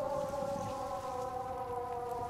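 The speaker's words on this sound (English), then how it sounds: "I am super done with the air raid siren noise." An air raid siren drones in the video game Sniper Elite 5, a steady, moderately faint layered tone holding its pitch without rising or falling, alone with no talk.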